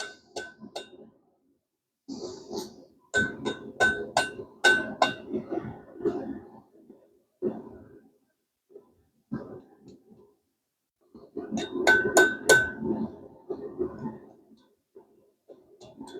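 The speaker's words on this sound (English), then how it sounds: "Just a lot of little fiddly hammer work at this point." A blacksmith strikes metal with a hammer while tapering and rounding, in irregular clusters of sharp ringing taps, some quick runs of blows, with pauses of quiet between.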